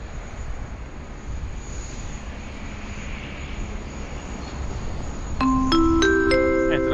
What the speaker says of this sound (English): So Q-Link 11, they're ready to go on 16 right, clear for takeoff.